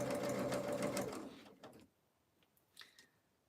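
A home sewing machine runs steadily with a whirring motor and rapid stitching for just over a second, then stops and leaves a few faint clicks and handling knocks in near silence.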